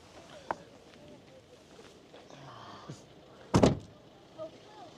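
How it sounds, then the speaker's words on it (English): A single solid door of a GWM off-road vehicle shuts with a deep thud midway, amid quiet cabin ambience and a few faint clicks. "the sound of when you close the door is so bold"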